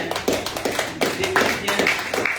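An audience in a French-speaking gathering claps in a short burst of uneven, fairly close hand claps, with a few voices faintly underneath.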